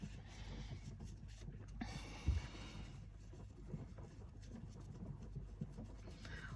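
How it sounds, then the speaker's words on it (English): A soft brush sweeps in circular motions over a gilded surface, lifting excess gold leaf with a faint continuous rubbing and scratching, close and very quiet, one slightly louder brush stroke midway. "when I'm doing my brushing, I tend to either go in circular motions"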